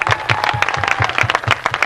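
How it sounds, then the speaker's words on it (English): An audience claps for a winner, a short burst of steady, fairly loud applause with a regular clapping rhythm and no talk over it. "a big clap for her"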